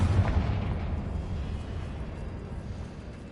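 In Hogwarts Legacy, a Confringo fire spell bursts with a deep, booming blast at the start, its rumble decaying into a low roar that fades over the following seconds.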